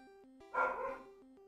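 A full-size husky dog gives one brief excited bark that stands out over steady chiptune music from a Pokémon Yellow game playing in the background.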